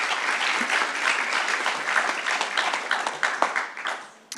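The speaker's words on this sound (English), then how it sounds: "Anyway, round of applause." Audience applause at a Texas A&M University–Central Texas fall convocation: a crowd claps steadily and fairly close, then the clapping thins into scattered claps and fades out at the end.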